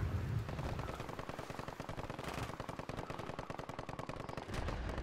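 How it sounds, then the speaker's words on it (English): Sustained rapid automatic gunfire from enemies in the Call of Duty Modern Warfare 3 campaign's frozen tundra mission, dense rattling bursts that run continuously with heavy low-end booms, loud and close, with no voices. "Taking enemy fire."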